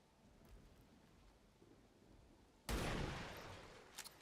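A single gunshot rings out in the XCOM 2 video game, a sudden loud burst after a quiet stretch that then decays into a rumbling tail with a couple of smaller cracks near the end.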